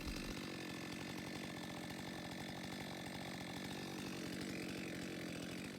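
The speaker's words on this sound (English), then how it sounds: "The blade on the new big chainsaw is just so unwieldy. It's almost only good for cutting the tops off of logs," A big chainsaw cuts the top off a log outdoors. The engine snarls at a loud, steady pitch throughout, close and continuous, with no pauses or talk.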